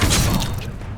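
Confringo fire spell explosion in Hogwarts Legacy, a loud dense burst of crackling blast noise that rolls on briefly and then fades, with no talking over it.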